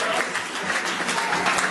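Dense applause from an audience at a country music awards show in Haag am Hausruck, steady and full throughout the short stretch.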